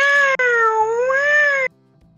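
A cat gives one long, loud, drawn-out meow that rises and falls in pitch, heard up close and ending abruptly into near silence.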